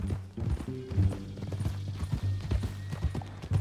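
Horse hooves clip-clop steadily in the Red Dead Redemption 2 video game, a brisk, close rhythm of hoof strikes on the ground with faint mechanical clicks alongside.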